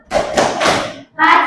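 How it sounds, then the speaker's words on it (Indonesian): A classroom of students claps for group 3, heavy rhythmic bursts of hand claps and thuds in a few loud clustered beats with a short gap before a final burst, close and boisterous. "kita beri aplaus untuk kelompok 3"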